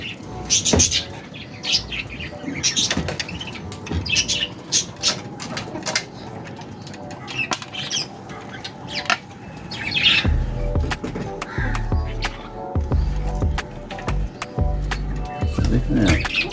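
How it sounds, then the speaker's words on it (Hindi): Birds chirping and squawking while being fed grain, with scattered calls and flutters over a steady outdoor background. "कुछ हमें परिंदों में भी डालना है ताकि परिंदे भी हमारे खाएं।"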